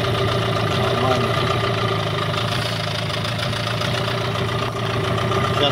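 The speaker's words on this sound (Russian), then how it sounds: "Вот сейчас на холостых показывает 800 там с какими-то оборотов." A Promax 9.9 outboard boat motor idles at about 800 rpm, giving a steady, loud, even mechanical drone that holds unchanged throughout and sounds close by.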